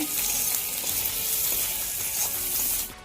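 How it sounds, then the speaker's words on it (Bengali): Onions frying in a pan with chili, coriander and turmeric powder and salt for an egg and potato curry, a steady close sizzle with light stirring, hissing continuously for a few seconds, no talking. "পেঁয়াজগুলো আমি ভালোভাবে ভেজে নিয়েছি।"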